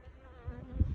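Honey bees buzz close by at an open hive being reversed to prevent swarming, a steady droning hum with a brief louder thump near the end.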